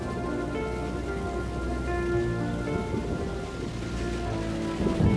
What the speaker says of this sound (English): When it does arrive, the afternoon thunderstorms are scattered all over the countryside.